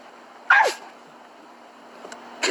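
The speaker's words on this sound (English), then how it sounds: "I don't know what dog that is" A single sharp dog bark or yelp rings out close by, with a falling pitch, followed by quiet room tone and a couple of faint clicks.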